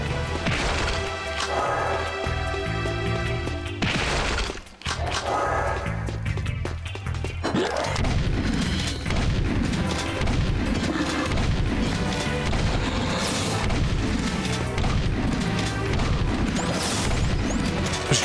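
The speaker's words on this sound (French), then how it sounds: "J'aime bien ce fusil à pompe." Shotgun blasts in Jak II: heavy, repeated smashing booms, at first sparse over game music, then a rapid run of loud, punchy hits through the second half.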